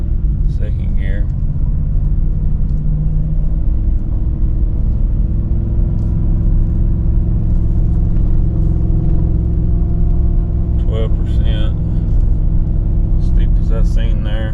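A gasoline Ford Super Duty truck pulls a heavy load uphill in second gear, its engine droning low and steady from inside the cab for the whole stretch, with brief voice-like sounds at the start and end.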